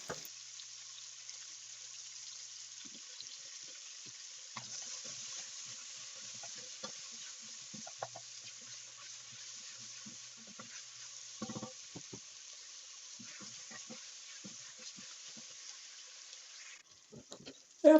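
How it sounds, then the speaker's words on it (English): Carrots and onions sautéing in a pot for beef bourguignon, a soft, fairly faint sizzle with scattered stirring knocks and scrapes, quiet throughout with a louder clatter at the very end. "After cooking our carrots and our onions for about 3 to 5 minutes"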